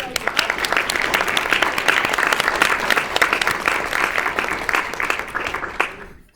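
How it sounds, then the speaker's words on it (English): Audience applause for a speaker at a talk on ethnic identity development in Mexican-origin families, a dense steady burst of many hands clapping close by for about six seconds before it cuts off sharply. "Give him a warm round of applause."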